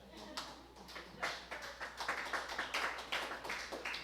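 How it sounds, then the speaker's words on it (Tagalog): Congregation in a church clapping in a loose, uneven patter of overlapping claps, moderately loud, with voices talking underneath throughout. "Palakpakan nato ang Ginoo."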